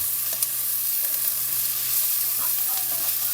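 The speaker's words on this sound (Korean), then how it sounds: "그리고 이거를 볶아주는 거예요." Tomato, egg and bacon stir-frying in a hot pan: a close, continuous sizzle with a few light scrapes and stirring clicks, and no one speaking.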